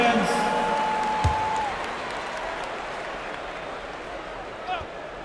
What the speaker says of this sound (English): One more big round of applause, fans